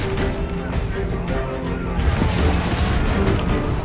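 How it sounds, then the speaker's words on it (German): Powder magazine blowing up aboard a sailing warship in Assassin's Creed Black Flag, a loud sustained roar of crashing, booming destruction with scattered bangs and debris, heard amid battle noise. "Das Magazin! Es explodiert!"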